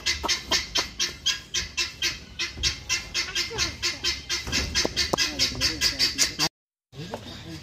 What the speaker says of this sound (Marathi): अरे बदक या डक आहे डक. तू ओरडतोस का रे?